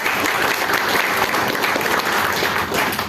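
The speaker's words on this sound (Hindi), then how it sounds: "पूरी आप सबके लिए जोरदार तालियां एक बार हो जाए।" Audience clapping loudly and steadily at a training event in Udaipur, a dense continuous round of applause from a large crowd throughout.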